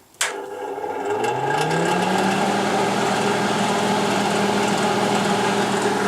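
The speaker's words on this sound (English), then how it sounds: "The old fan's a little bit rattly, a little bit noisy." An old MIG welder's cooling fan starts with a click, then spins up with a rising whine and settles into a steady, close, rattly hum that runs on unchanged.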